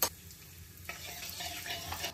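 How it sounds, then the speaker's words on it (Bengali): Asafoetida dropped into hot white oil in a wok, a soft frying hiss that picks up and turns brighter partway through, faint and heard alone with no talking. "দিয়ে দিচ্ছি একটু হিং।"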